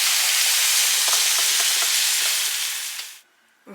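Leeks fry with soy cream in a pan, a loud, dense sizzle hissing steadily for about three seconds before cutting off abruptly.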